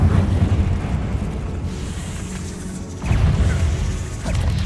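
Confringo fire spell blasts in the video game Hogwarts Legacy: loud crashing explosive bursts over a rumbling game soundscape, with a renewed impact around the three-second mark.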